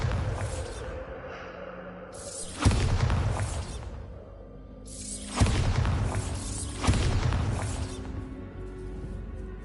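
The Bombarda blasting spell in Hogwarts Legacy goes off in three loud booming explosions a few seconds apart. Each one bursts with a crashing, shattering impact and then rumbles away over a low background.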